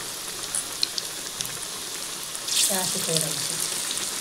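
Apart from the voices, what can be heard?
bread pakoda frying in hot oil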